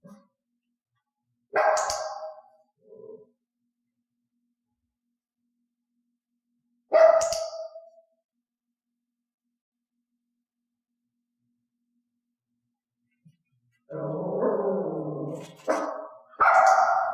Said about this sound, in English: I cued a talk talk hand gesture just as Elaine was about to begin barking